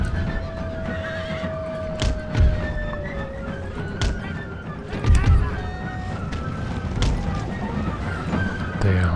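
Horses whinny and neigh in the Empire Total War video game battle, with several drawn-out calls over a busy mix of hoof thuds and battle noise, heavy low thumps recurring, loud and close.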